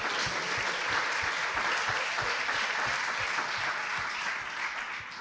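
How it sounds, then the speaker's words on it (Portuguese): A church congregation breaks into applause, many hands clapping in a thick, continuous roar that stays strong throughout and eases slightly toward the end, with a low rhythmic thump beneath and no speech over it. "Aplauda Jesus e fala"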